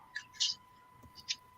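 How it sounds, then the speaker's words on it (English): A pet cat gives a few short, high meows, with a couple of brief calls spaced apart over a steady electronic hum, close by and moderately loud. "No, it's the noise my cat makes."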